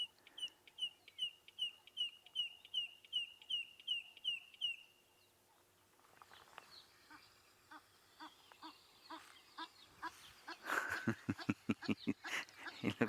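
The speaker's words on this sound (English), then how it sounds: "That's its beak clicking that goes before the call." A rapid series of dry, evenly spaced clicks repeats for several seconds, followed by louder, harsher bird calls close by.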